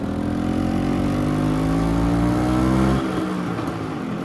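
A 25-year-old LML NV SPL two-stroke vintage scooter engine revs up in a rising, buzzy drone, holds high, then drops abruptly back toward idle near the end.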